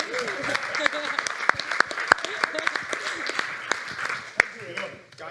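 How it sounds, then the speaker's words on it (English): Audience applause at a fintech leaders event, a brisk, fairly close patter of hand claps with some sharper individual claps, mixed with crowd murmur and fading out at the end. "So clap it up for Joanna."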